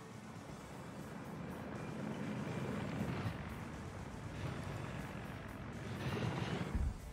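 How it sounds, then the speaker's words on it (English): A Mi-24 helicopter in Arma 3 passing over, a continuous low rotor and engine rumble that stays fairly steady and swells slightly toward the end, with no speech over it. "I'm gonna have that MI-24 come over and just have a look."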